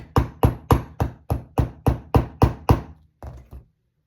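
Ten evenly spaced blows from a magnetic hammer on a TYCO 0-4-0 model locomotive part ring out sharply, close by, followed by a couple of lighter taps before silence.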